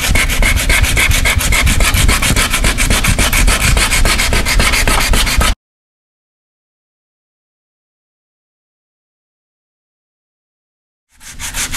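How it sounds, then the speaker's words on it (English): Coarse sandpaper scrubs a metal door in fast, steady back-and-forth strokes, loud and close, then cuts to silence before the scraping briefly resumes at the end, with no talk. "we're just going to sand it down really well until we have all of the metal showing on the door"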